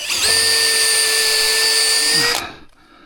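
A power drill bores into material while a windbreak porch is being built onto a house, a loud, steady high-pitched whine at close range lasting over two seconds before winding down and stopping.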